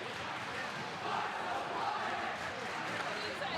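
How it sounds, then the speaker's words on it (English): Crowd at a high school hockey game between Hopedale-Milford and Blackstone Valley Tech, a broad steady wash of cheering and shouting in an arena that swells slightly partway through. "Crowd starting to pick it up now on the Hopedale side."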